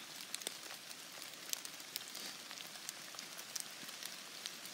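Rain falling in a bay tree forest, a steady soft hiss of drizzle with scattered sharp drops pattering on leaves and ground, quiet and diffuse with no voices.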